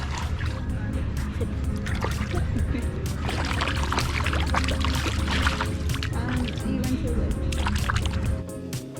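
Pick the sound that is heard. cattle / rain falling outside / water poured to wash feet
water poured to wash feet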